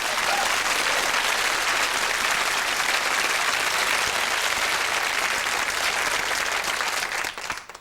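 A studio audience at a 1996 British comedy chat show breaks into loud, dense, sustained applause that fills the room before tapering off abruptly at the end.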